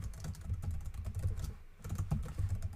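Rapid typing on a computer keyboard during Rust programming, a steady stream of close, crisp key clicks with a brief pause in the middle before the tapping resumes.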